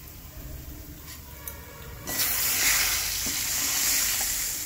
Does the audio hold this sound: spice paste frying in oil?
yes